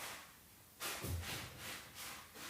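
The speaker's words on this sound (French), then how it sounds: "c'est le chat qui est dans la litière." A cat scratches and digs in its litter box, close by, with soft rustling scrapes in uneven bursts against a hissy background.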